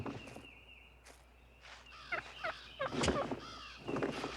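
Wild turkey toms gobble during a courtship strut before hens, with several rapid, warbling gobbles at mid distance and some rustling footsteps between calls.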